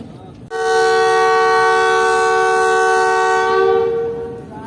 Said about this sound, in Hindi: ये उसका वेसल है जो ट्रेन की लीड पर लगा हुआ है और ट्रेन चलना शुरू हो चुकी है।